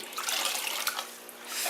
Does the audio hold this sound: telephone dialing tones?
no